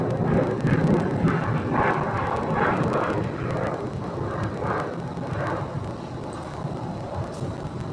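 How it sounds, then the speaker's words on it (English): A Boeing 787 Dreamliner airliner on the Honolulu flight passes near Phoenix airport. Its steady, loud jet roar fills all eight seconds with a broad rumble that fades slightly toward the end, and no one speaks. "That looks like a 787 Dreamliner that I'm seeing right there."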